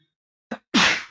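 A single sneeze, a short sharp intake followed by a loud burst, alone in an otherwise quiet room.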